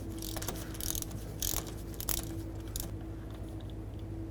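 A 3/8 drive ratchet works a 15 mm fill plug loose on a 2007 Chevy Silverado Classic rear axle, giving faint clicking ratchet bursts and a few louder clunks over a low steady hum.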